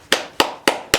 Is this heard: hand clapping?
yes